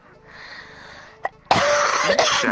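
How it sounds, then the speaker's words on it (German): A person coughs hard and close up, a short harsh burst following a small earlier sound, loud and raspy with no talking over it. "Ich werd voll angehustet."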